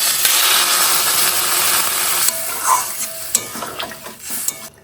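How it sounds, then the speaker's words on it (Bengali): Mixed vegetables with raw tomato, salt and turmeric sizzle steadily in a pan while a spoon scrapes and stirs them in a few sharp knocks, close and fairly loud. "আরও একটু ভালো করে ভেজে দেবো সবজিগুলো ভাজা ভাজা হয়ে গেছে"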